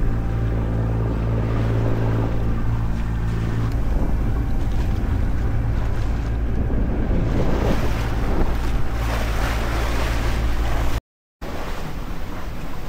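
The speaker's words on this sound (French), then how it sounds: "Le vent monte un petit peu, il fait beau, mais il y a des vagues, pas mal de vagues." Wind and choppy sea waves around a sailing boat in open water off Sicily on a sunny day as the wind rises, a loud steady rush of wind buffeting the microphone over sloshing water, with no talking.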